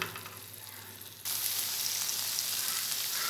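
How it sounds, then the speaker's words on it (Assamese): Oil sizzles in a pan of cooking food, starting as a softer crackle and jumping to a loud, dense, steady hiss partway through, close up, with no talking. "এইখিনি মোৰ তেল বিৰিঙি আহিছে দেখিছেনে"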